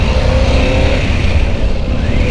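A Harley-Davidson Pan America 1250 with its Revolution Max engine runs close by, a loud, steady low rumble lasting the whole moment with no voices over it.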